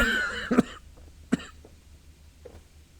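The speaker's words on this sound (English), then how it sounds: "I can't stop coughing." A few sharp coughs: a burst of two quick coughs, then a single cough, then a fainter one, separated by quiet pauses.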